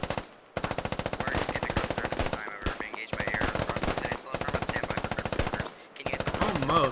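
Sustained automatic rifle fire from a Squad automatic rifleman, loud and close, in long rapid bursts broken by brief pauses, with a faint voice underneath.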